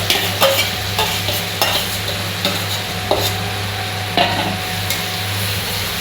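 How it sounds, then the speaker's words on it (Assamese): Ginger, garlic, tomato and onion frying in oil in a pan, a loud steady sizzle broken by repeated scraping stirs, close up with no voices. "ধুনীয়াকৈ ৰঙা কৰি ভাজিব লাগিব।"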